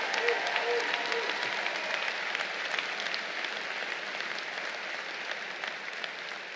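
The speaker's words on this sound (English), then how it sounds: "How about a round of applause" Steady applause from a large crowd at a Citadel Corps of Cadets commencement ceremony celebrating the class of 2023, dense clapping sustained throughout with a slight fade toward the end and no talking.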